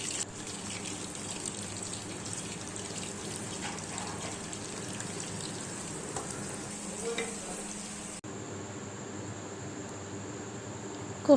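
Kofta meatballs frying in cooking oil in a wok give a steady, close sizzle that runs without a break, then drops slightly in texture for the last few seconds.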